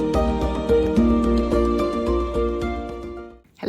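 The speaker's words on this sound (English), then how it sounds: "please excuse the noise from the motor saw down in the village" A motor saw cutting firewood down in a village on a Mediterranean summer morning, a steady droning whine with a faint rhythmic pulse, heard from a distance and fading near the end.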